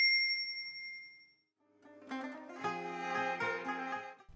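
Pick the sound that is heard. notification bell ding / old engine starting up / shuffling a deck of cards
notification bell ding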